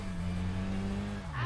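Cars race in a drift battle in Tokyo Xtreme Racer Drift 2, a steady loud engine drone holding pitch before dropping near the end, with a faint tire squeal and no talk.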